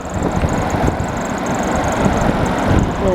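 A reversible DC box fan runs steadily after being switched on, producing a loud, even, broadband whoosh with a low hum underneath, close by and without talk.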